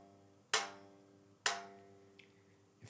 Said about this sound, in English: And if you put it too far up, the note will sound dead like this.